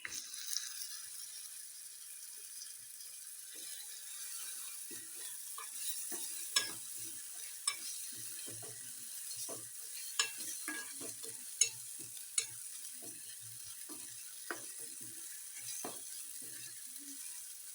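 Green masala and tomato stir-fried in a pan for a pumpkin curry, with a steady soft sizzle and repeated scraping and clinking from a spoon against the pan, close and alone.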